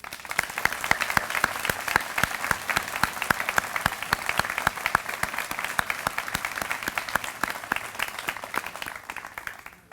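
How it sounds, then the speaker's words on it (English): A large audience at a 2016 Shady Side Academy commencement applauds the graduates' parents, producing dense, sustained clapping that holds steady for about ten seconds before easing slightly at the end. "Let's have a round of applause for them now"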